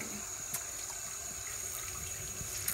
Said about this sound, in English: I got to get my sponge wet.